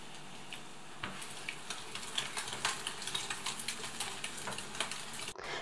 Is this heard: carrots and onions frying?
yes